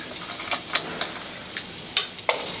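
Aromatics for ginataang hipon are stirred in a hot pan, with a handful of sharp, scattered spatula scrapes over a faint background sizzle.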